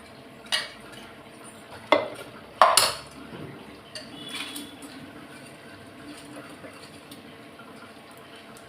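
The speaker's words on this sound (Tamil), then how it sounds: "இப்போ நான் அரிசியை கழுவி போட்டுட்டு குக்கரை மூடி வச்சிட போகிறேன்" Washed rice goes into a pressure cooker and the lid is closed, with several sharp metallic clanks and scrapes of pot and lid, then quieter handling rattles in a kitchen.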